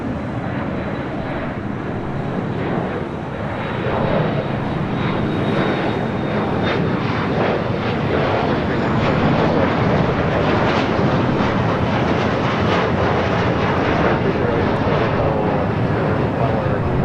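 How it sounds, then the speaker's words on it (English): Airbus A380 airliner at LAX during night spotting, its engines giving a loud, steady broadband roar that swells slightly through the middle and holds throughout, with a voice talking underneath. "Airbus A380 King of the Airways"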